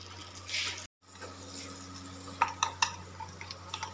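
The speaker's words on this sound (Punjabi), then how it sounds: "ਮੈਂ ਮੈਂ ਮਿਕਸ ਕਰ ਰਹੀ ਹਾਂ" Omelette ingredients being stirred in a bowl, with soft swishing followed by a few sharp clinks of a utensil against the bowl, faint and close against a steady background hum.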